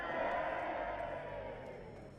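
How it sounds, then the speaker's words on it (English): A short cheering sound effect played on a podcast: a crowd roars and whoops steadily for about two seconds at moderate level, with no one talking over it. "We have cheering now."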